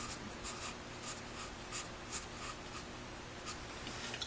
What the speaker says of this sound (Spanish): pueden simplemente darle la vuelta al lápiz y crear trazos más finos de punta